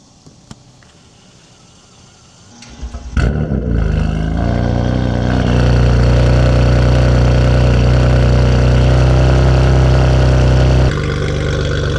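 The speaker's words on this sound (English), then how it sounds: "it's really hard talking when my car is this loud" A BMW M3 F80 fires up after a few quiet seconds and settles into a loud, deep, steady idle with a heavy rumble that carries to the end.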